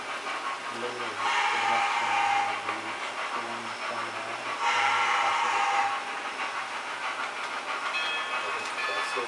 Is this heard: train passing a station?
yes